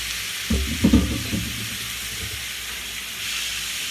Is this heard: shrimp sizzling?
yes